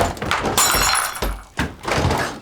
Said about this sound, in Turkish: Yine ne kırdın? Bardak kırıldı.